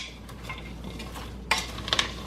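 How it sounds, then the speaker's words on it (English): Salt being stirred into a bread and butter pickle mixture in a bowl, with a soft wet swishing and a few sharp utensil scrapes and clicks toward the end, close and fairly quiet, with no voices. "So we're just gonna give this a good stir."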